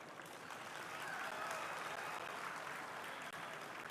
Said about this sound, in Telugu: కిషన్ రెడ్డి గారి గురించే మనం ఎక్కువ చప్పట్లు కొట్టాలి